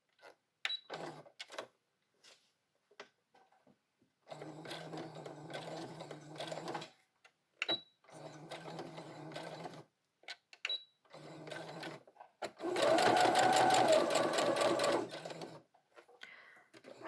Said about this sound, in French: Je vais à présent coudre sur ces 2 lignes